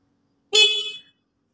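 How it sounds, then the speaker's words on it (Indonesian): A single short, bright horn honk from a Honda Vario 110 motor scooter, close by and loud, lasting about half a second against silence. "Untuk klakson juga normal."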